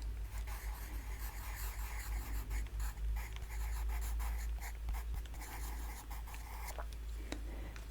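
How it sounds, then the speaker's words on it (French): A pen scratching out a word by hand in a soft-spoken French ASMR roleplay, with close, continuous scratchy strokes in an uneven rhythm, intimate and quiet. "Et là, je vais écrire un mot."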